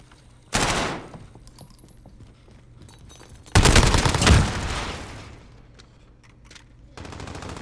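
Video game gunfire from a competitive multiplayer scrim: a loud burst of shots near the start, then a longer, heavier spray of rapid fire in the middle, and another burst at the end, with quiet stretches between.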